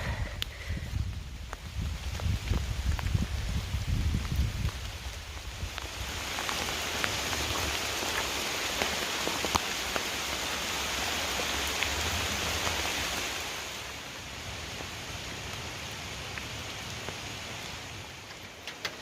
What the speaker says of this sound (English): it's been raining pretty good all morning